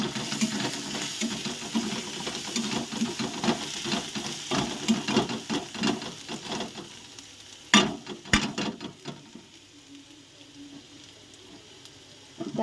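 Garlic and slit green chillies sizzle in hot oil in a pan while cooking jute leaves, a steady crackling fry with stirring scrapes and a couple of sharp clinks, quieter toward the end.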